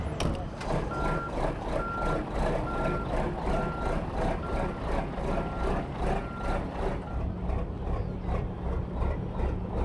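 A truck's reversing beeper sounds in a steady, regular rhythm over loud, continuous engine rumble close by, as the truck backs up to hook up at a dirt track.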